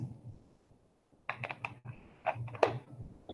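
Keys clatter on a computer keyboard in quick, uneven bursts of typing, faint and close, with a brief quiet gap before the strokes resume.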